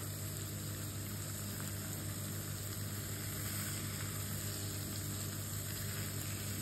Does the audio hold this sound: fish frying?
yes